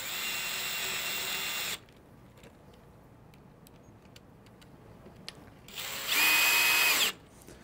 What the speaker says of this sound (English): and then drive that screw all the way in.